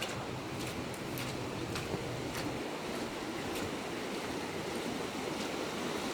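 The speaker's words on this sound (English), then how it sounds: "See how bad the creek is up." A flooding creek after heavy rain rushes steadily, a dense broadband roar of fast water that continues without a break, fairly loud and close.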